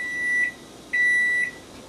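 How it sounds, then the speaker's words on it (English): A kitchen timer beeps in a steady pattern of loud, high, sustained tones about half a second long, separated by short gaps, close and alone in a quiet kitchen while tomatoes are being blanched. "my timer just went off"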